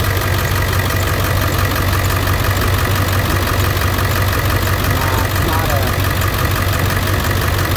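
An International T444E diesel engine with 11,500 hours runs at a steady idle, a loud, constant close-up clatter and rumble that never changes.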